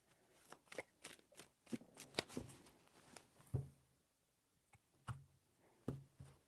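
Tarot cards being shuffled by hand, heard as a series of crisp riffling and tapping bursts spaced unevenly across the stretch, close and fairly quiet, with no talk.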